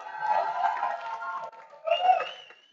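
Home supporters cheer and shout from a crowd for a judge at a student music festival, a brief burst of voices over a couple of seconds, moderately near.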